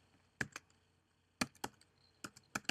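Bursts of typing on a computer keyboard, a few quick clicks at a time separated by short pauses, close and fairly quiet in an otherwise silent room.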